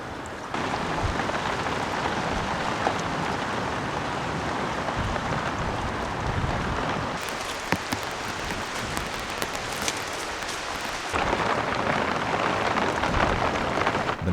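Rain falls on a stone hut with a thick grass roof, a dense steady patter and hiss filling the whole stretch, with a few sharper drips and gusts partway through.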